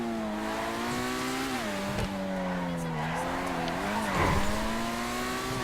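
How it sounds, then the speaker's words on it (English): A Benefactor Krieger supercar in GTA 5 driven fast along a highway, its engine holding a steady, loud tone that dips and climbs with gear and speed changes over a few seconds, with brief tire noise mixed in. "We'll take it out to the highway and drive out towards Chumash and see how fast the car truly is."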